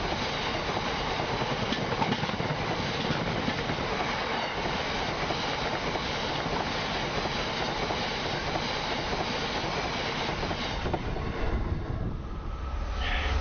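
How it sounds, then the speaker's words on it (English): A Class 70 diesel locomotive hauling a heavy tank train rumbles past a footpath level crossing steadily and loudly for a long stretch, wheels rolling continuously, before the noise thins out near the end. "Class 70, number 70803, heading a tank train on the down slow."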